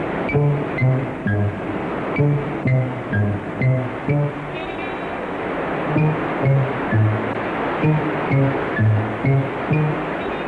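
Comic sound effect of Atlantic sea water rushing into a sinking prison: a continuous wash of surging water with a steady rhythmic pulsing pattern running through it.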